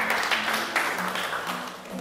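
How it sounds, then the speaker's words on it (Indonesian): A class group applauds indoors with dense, steady clapping that holds for a couple of seconds and fades slightly toward the end. "tepuk tangan dulu dong"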